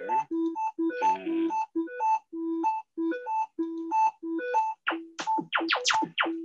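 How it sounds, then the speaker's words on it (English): A bright, plucked electronic melody of short repeating notes in a bouncy rhythm, ending with a quick run of rising tones. "this is actually what my ringtone sounds like on my phone"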